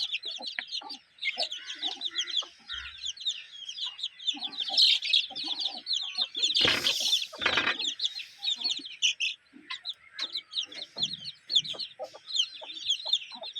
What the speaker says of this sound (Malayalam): ഒരു അമ്മ കോഴിയും അതിൻ്റെ 30 കുട്ടികളും